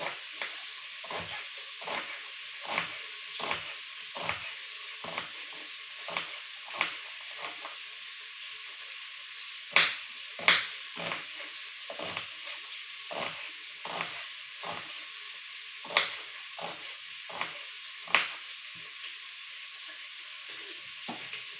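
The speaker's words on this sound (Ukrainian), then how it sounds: "Поки тушкується м'ясо" Ribs stewing in a pan give off a steady frying sizzle, with repeated sharp crackles and pops spread through it. No one speaks.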